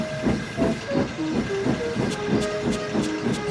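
Gordon the steam locomotive puffs steadily with a rhythmic chuffing and constant hiss, close and fairly loud, with no voices over it.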